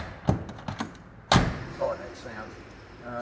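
A 1967 Corvette door swings shut with a single solid, heavy thud close by, preceded by a few lighter knocks and followed by faint voices talking in the background.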